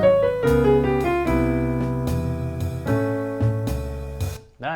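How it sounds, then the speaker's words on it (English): Double-time jazz solo played over a backing track at 75 beats per minute: a dense run of quick, clear melodic notes over steady harmony and bass, loud and close, with no talking. "let's try playing with the track now at 75 as the quarter note"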